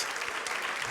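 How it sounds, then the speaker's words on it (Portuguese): A church congregation claps their hands in praise, a dense, even burst of many hands clapping together, loud and sustained for a brief moment. "Lord a hand clap of praise in this house"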